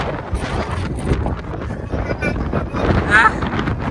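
Strong wind at a geyser in Iceland roars and buffets the microphone in continuous rough gusts, with a voice faintly present underneath.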